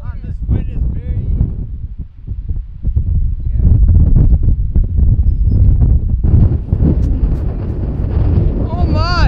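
Loud wind buffeting an outdoor microphone, a steady low rumble that swells and gusts throughout, with a person speaking under it near the start.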